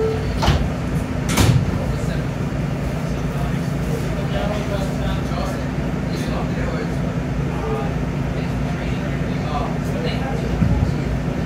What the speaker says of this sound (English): clear of the closing doors